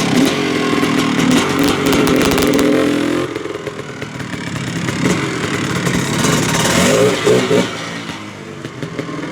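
A 2024-built Kawasaki KX500 two-stroke motocross bike's engine blares loudly and close, first holding a steady high rev, then dropping and surging again in ragged throttle blips with a crackling two-stroke edge.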